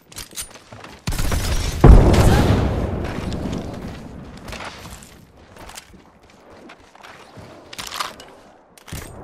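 A frag grenade blast in the shooter game Apex Legends, one loud booming burst near the start that rumbles and decays over a couple of seconds, followed by quieter scattered game noises.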